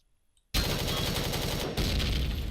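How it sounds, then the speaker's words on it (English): Gun turret in the Empyrion video game firing a sudden, loud, continuous rapid burst that starts abruptly after near-silence and rattles on steadily for two seconds, with no talk. "And that's the gun turret gun."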